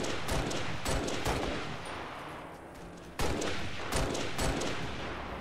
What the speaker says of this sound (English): Yeah, he has a sniper rifle!